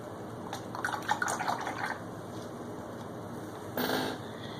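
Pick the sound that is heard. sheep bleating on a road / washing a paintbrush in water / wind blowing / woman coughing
washing a paintbrush in water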